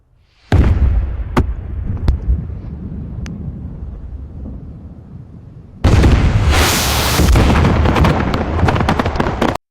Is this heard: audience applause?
no